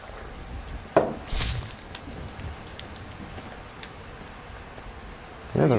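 Steady rain falls in the video game Skyrim, a continuous even hiss with a few louder knocks and thumps rising above it.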